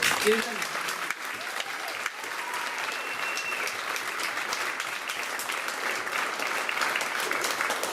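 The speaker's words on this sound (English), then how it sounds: "if we could get one more great round of applause for all these great people up here" A high school choir concert audience applauds steadily for the performers, a dense sustained clatter of many hands that holds loud and even from start to end, with a few faint voices and whistles mixed in.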